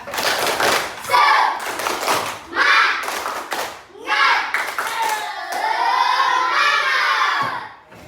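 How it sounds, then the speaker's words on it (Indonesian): Classroom children perform a rhythmic spirit clap, bursts of unison clapping in short patterned groups separated by brief pauses, mixed with excited shouting voices, fairly close and lively. "Semangat, tepuk semangat dulu"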